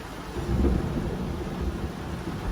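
Thunder rolls during a storm seen while driving on the road, a steady low rumble that swells early and then keeps rolling.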